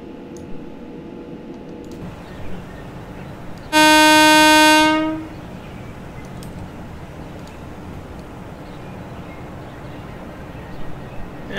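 A train horn in Train Simulator 2020 sounds one loud sustained blast of about a second and a half over a steady low cab rumble, on a Sevenoaks to London Blackfriars service.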